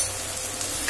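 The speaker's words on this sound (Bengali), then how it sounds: "ভালো করে ভাজব।" Pointed gourd paste fries in a pan with salt and turmeric, giving a steady, even sizzle close by that lasts the whole short moment with no voice over it.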